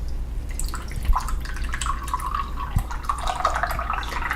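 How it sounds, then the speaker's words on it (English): Hot water is poured over puerh tea leaves in a teapot to rinse them. A steady soft trickle of liquid runs for several seconds, close and moderately quiet, with a couple of small clinks. "You want to make sure that you give it a really good rinse to open up the leaves."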